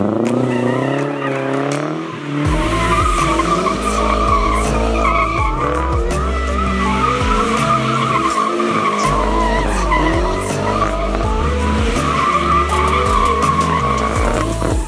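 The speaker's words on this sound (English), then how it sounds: "It surprisingly did do donuts." A Mazda Miata running on rubbing alcohol does donuts, its engine revving hard under continuous loud tire squeal and skidding that rises and falls as the car spins, close by, for about fifteen seconds.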